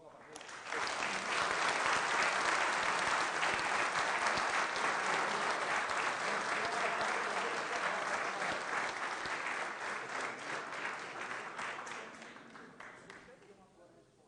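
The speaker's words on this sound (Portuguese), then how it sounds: "Por isso eu peço uma salva de palmas novamente." Sustained applause from an audience in a formal auditorium, a dense wash of clapping that swells quickly, holds steady and gradually fades out.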